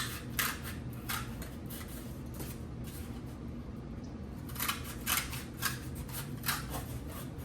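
Scissors snip down the middle of handmade fly swatter handle material, a series of crisp cuts in two clusters over a steady background hiss, close and fairly quiet.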